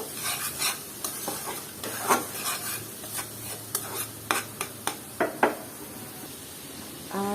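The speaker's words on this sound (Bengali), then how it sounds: "মশলাটার সাথে পেঁয়াজটা ভালো মতো কষিয়ে নেব" Spices and onion being stir-fried in a pan, a spatula scraping and pushing in a string of distinct strokes over a soft sizzle, close and fairly loud, no talking.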